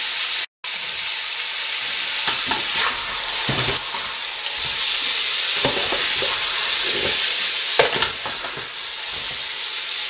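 Veal pieces browning in a hot pan for veal Marengo, a loud continuous sizzle and crackle close by, with occasional stirring scrapes.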